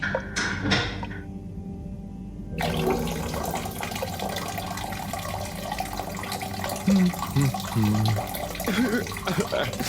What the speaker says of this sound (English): Sounds like the shower is playing up.